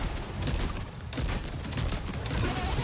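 Gunfire rattles in the video game Death Stranding 2 as a dense, continuous barrage of shots and impacts, loud and close throughout with no pause.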